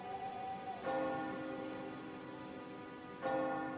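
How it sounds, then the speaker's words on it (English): A distant town clock chiming midnight, two resonant bell strikes about two and a half seconds apart, each ringing on and slowly fading, soft and far off with no voices. "The town clock chimed midnight,"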